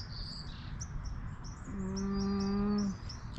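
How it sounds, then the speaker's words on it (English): Birds singing outdoors, soft distant chirps repeating throughout, joined partway by a low, drawn-out tonal call that holds for about a second before stopping. "That's the sound of nature singing."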